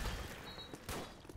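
An M4 carbine fires in a shooter video game, with loud, close bursts of rapid shots that come in two clusters over a dense noisy background.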